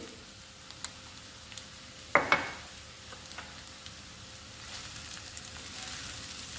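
Egg rice made with unpolished rice and chili powder, stirred in a pan under a soft, steady sizzle, with a couple of sharp utensil clinks partway through.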